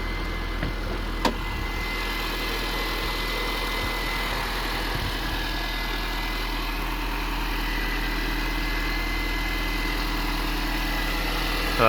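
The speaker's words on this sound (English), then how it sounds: "whilst we've got the engine running, I will just pop the bonnet and I'll show you that there's no weird noises" A Mini Cooper S R53 engine idling with the bonnet open, a steady close hum with a deep low throb and even mechanical drone, held constant throughout with a faint click near the start.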